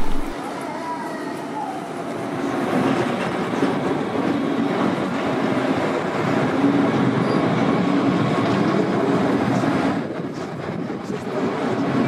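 A Cologne S-Bahn electric multiple-unit train passes close by with a steady rushing roar and rail rumble that swells and then eases near the end.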